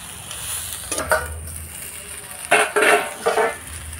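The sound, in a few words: stirring cauliflower with curry leaves in a frying pan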